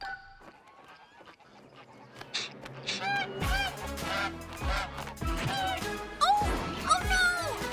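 Hungry cartoon birds honking loudly in a busy, layered chorus, with crashes and whacks mixed in, all set over music, from a children's animated beach-day show.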